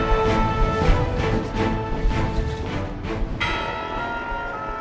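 The defeat layer of adaptive video game music plays for losing or doing poorly, with low, bell-like tolling tones over a dark, sustained musical bed throughout.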